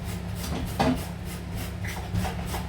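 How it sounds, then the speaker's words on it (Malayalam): Green chutney spread onto a halved vada pav bun, soft faint rubbing and scraping strokes with a couple of slightly louder swipes, close and quiet. "ഗ്രീൻ ചട്നി തേച്ച് കൊടുക്കാം"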